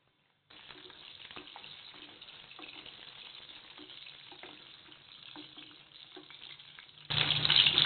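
Potatoes frying in hot ghee over a high flame for dum aloo give a steady close sizzle with faint crackles throughout, which turns abruptly louder and harsher near the end.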